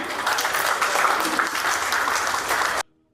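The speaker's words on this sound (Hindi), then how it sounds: "तालियां तो बजती रहनी चाहिए जी" Applause continues from an audience at a retirement function, a steady wash of many hands clapping at an even level before it cuts off abruptly near the end.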